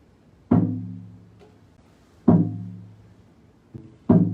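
A deep hand drum beats slowly and steadily at about heartbeat rate for meditation, each strong hit followed by a softer one like a heartbeat, ringing out alone between strokes.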